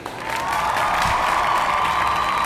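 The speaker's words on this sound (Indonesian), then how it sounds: "Tepuk tangan untuk kelompok 1." Applause and crowd cheering for the first group in an online microteaching lesson, a steady, full wash of clapping and cheers that holds evenly for about two and a half seconds, then cuts off.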